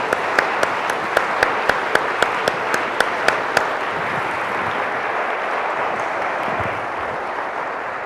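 Audience applause in a hall at an education conference: a broad, steady wash of clapping with a few sharp rhythmic claps standing out early on, then thinning and easing toward the end.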